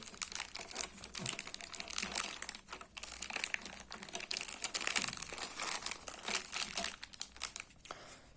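Plastic and cardboard packaging of a Braun Series 3 shaver is opened, giving close, irregular crinkling and crackling with small taps and rustles throughout, and no voice is heard.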